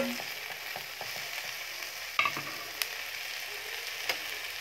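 Tomatoes sautéing in a pan, stirred with a wooden spoon: a soft steady sizzle with faint scraping strokes and a few sharper knocks against the pan, fairly quiet and with no talking.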